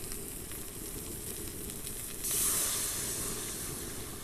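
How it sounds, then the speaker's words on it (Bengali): Water poured into fried spice paste in a pan sets off a sudden louder hiss and sizzle halfway through, over a steady low frying crackle, with no voices. "এবার আমি এই মশলার মধ্যে জল দিয়ে দেব।"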